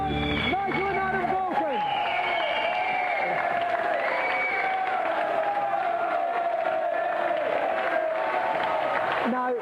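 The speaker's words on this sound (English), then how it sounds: "Have a round of applause" Sustained studio audience applause on a video game TV show after a Golden Joystick award, dense clapping throughout with some cheering, a host's voice faintly present early on.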